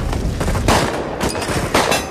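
Loud, dense bursts of gunfire in an action film fight scene, several sharp volleys in quick succession over a busy, heavy mix with no talking.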